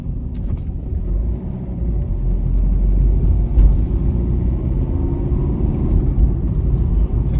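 A 2010 Ford Fiesta Edge TDCi diesel with a five-speed manual gearbox driving along winding roads, a loud, steady low engine and road rumble heard from inside the car.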